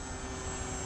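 A radio-controlled E-Flite Air Tractor 402 model plane on floats flies by, its engine a steady, loud droning whine filling the short moment with no talk.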